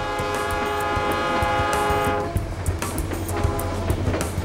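A train passes close by, its long horn blast sounding loud and sustained before giving way to the rumble and clatter of the wagons rolling past on the tracks.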